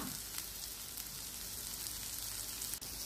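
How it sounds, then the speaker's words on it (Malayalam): Small onion sautéing in a pan for fish masala, a steady soft sizzle and crackle of frying, faint and close, with no talking. "ഒരു ചെറിയ ഉള്ളി മതി അത് നന്നായി വാട്ടിയെടുക്കാം"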